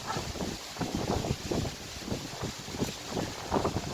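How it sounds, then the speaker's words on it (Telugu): Summer wind gusts through tree branches beside a terrace in repeated soft rushing swells, with close microphone buffeting and rustling that rise and fall every half second or so. "అలాంటిది గాలి చూడండి ఎలా వీస్తుందో. గాలి తోలడం వల్ల చెట్టు కూడా చూడండి కొమ్మలు ఎలా ఊగుతున్నాయో."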